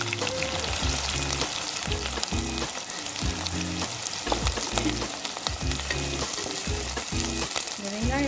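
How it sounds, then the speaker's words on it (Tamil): Onions frying in hot oil for chicken biryani, a steady loud sizzle that runs the whole time under a background music track, with no talking. "எண்ணெய் நல்லா சூடாயிடுச்சு. நம்ம எடுத்து வச்சிருக்க வெங்காயத்தில் பாதி வெங்காயம் இதில் போடுவோம்."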